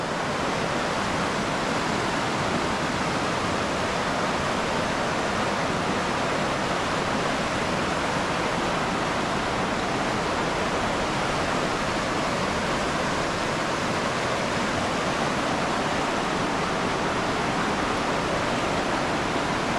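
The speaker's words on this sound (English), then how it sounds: "Listen to the sound of water." Loud, unbroken roar of river water rushing over rocks near the Guyana–Brazil border, dense and close throughout with no voices or pauses.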